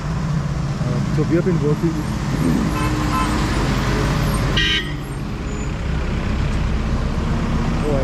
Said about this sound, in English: there's so much traffic here. It's impossible. The noise is deafening.